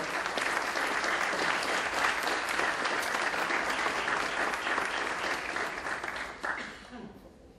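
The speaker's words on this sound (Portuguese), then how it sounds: "receba os aplausos de toda a nossa plateia" A seated audience at a Caravana opening event gives sustained loud applause that carries on evenly for several seconds, then thins out and fades near the end.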